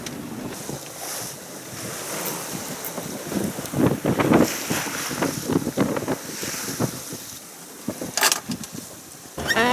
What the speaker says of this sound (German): jetzt kommt gerade ein bisschen Wind, schön